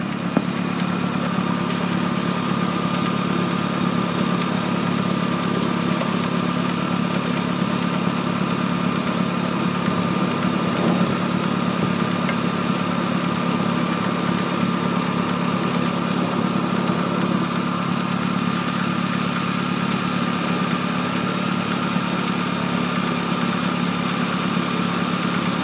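The 2.4-litre engine of a 1997 Nissan Altima idles steadily for the whole stretch, a close, even hum with a faint buzz, with no talk over it.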